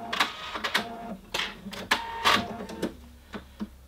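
Sewing machine back tacking at the end of a princess seam near the armhole gives a close, loud, stuttering run of short mechanical stitching bursts with a brief reverse, and no voices.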